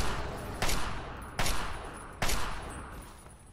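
Three evenly spaced loud gunshots in Fallout 3 ring out about three-quarters of a second apart, each a sharp crack with a long decaying echo tail, close and alone.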